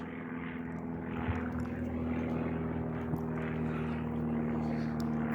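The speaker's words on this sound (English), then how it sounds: "Got a little plane coming over," A small propeller plane passes overhead above a scenic backpacking viewpoint, its steady engine drone and tonal hum holding loud and constant throughout, with no talking.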